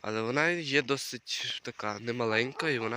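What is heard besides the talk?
No distinct noise like a dog, phone or traffic.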